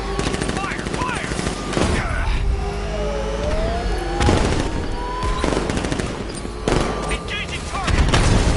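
Sustained heavy gunfire in the video game Batman: Arkham Knight, with rapid machine-gun bursts and booming impacts over a constant engine roar, while voices call out during the fight.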